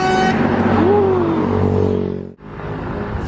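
An NPM bus passes close on a road near Lake Singkarak, its engine rumble loud and rising before quickly fading away, followed by quieter road noise.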